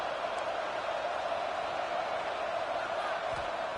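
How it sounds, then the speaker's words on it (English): Steady, broadband roar of a stadium crowd at a college football game between Houston and Cincinnati, rising as the defense faces a red zone stop, a constant distant wash of noise with no distinct voices. "And here comes the noise. This crowd is trying to inspire this defense to make a big red zone stop."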